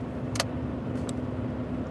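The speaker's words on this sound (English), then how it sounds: "sorry, cars are going by" Cars pass by on a nearby road, a steady engine and tire hum with a few brief clicks and rattles, continuous and fairly loud, with no voices.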